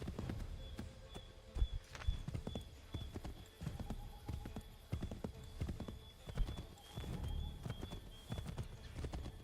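Horse hooves gallop in a steady, rapid clip-clop rhythm through the Assassin's Creed III video game, close and fairly loud over a low rumbling background, with an occasional whinny.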